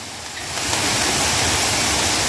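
A waterfall near Nageshwar in Ratnagiri, heard on a trek, rushes as a dense, steady roar. It swells slightly at first, then holds loud and continuous, close by with no other sounds.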